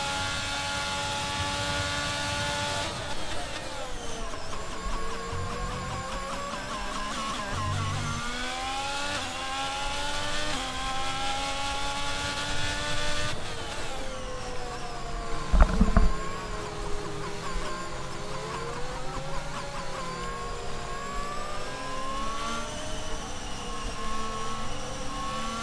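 Race cars in a sim racing game at the Hungary circuit: a continuous droning engine whine rises and falls through gear changes, with several cars passing, and there is no talk.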